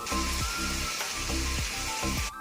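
Nigella seeds (kalo jeera) frying in a pan, a steady close sizzle running throughout with a few brief stirring scrapes spaced at regular intervals.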